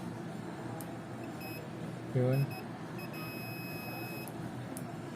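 An Epson L1455 printer gives off electronic buzzer beeps: a few short blips, then a longer steady tone, at moderate level. A brief spoken word and a low background hum sit alongside it.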